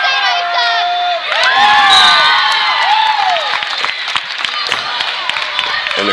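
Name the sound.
Okeene basketball crowd cheering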